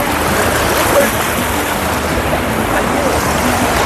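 Fast-flowing river water rushes steadily beneath a wooden bridge on a drive through nature, a loud, continuous broadband roar that fills the whole stretch without pause.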